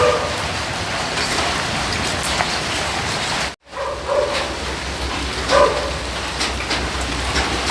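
Steady rain pours down in a continuous hiss, with a brief dropout midway and a dog barking faintly a few times in the background.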